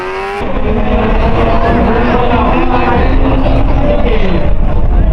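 Honda cars launch down a quarter-mile drag strip at a Honda Day event, a loud, sustained roar of revving engines with rising gear pulls, crowd and announcer sounds mixed beneath.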